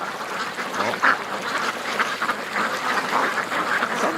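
Ducks quack repeatedly by a creek, several calls overlapping in a steady busy chorus, fairly close over outdoor background noise.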